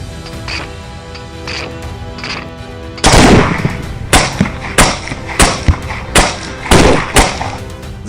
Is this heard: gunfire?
yes